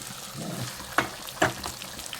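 Mackerel curry cooking in ghee sizzles softly and steadily in the pan, broken by two sharp utensil clinks close together.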